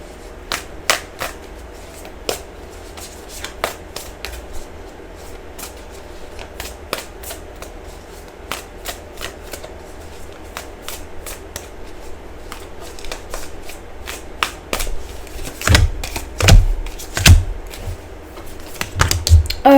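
A deck of Moonchild Tarot cards being shuffled for a reading, with a long run of quick papery riffles and flicks, close and fairly loud, growing busier and thumping toward the end, with no talking.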